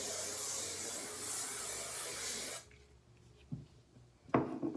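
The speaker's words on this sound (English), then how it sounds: "I'll take my hairspray one more time and spray." A steady hissing spray from an aerosol can runs for a couple of seconds, then cuts off, leaving faint rustling and soft taps.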